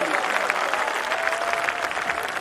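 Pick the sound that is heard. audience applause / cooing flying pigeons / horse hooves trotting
audience applause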